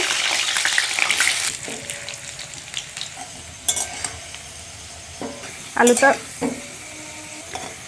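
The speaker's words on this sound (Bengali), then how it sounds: "দিয়ে দিচ্ছি সর্ষের তেল। প্রথমে আলুগুলো ভেজে নেব।" Potatoes fry in hot mustard oil in a kadai with a loud, crackling sizzle at first that settles into a softer hiss, broken by metal utensil clinks and scrapes as they are stirred.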